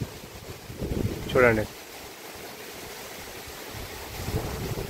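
Strong wind blows through a Yelakki banana plantation with a constant rushing, buffeting roar, close and loud, while someone talks briefly over it near the start.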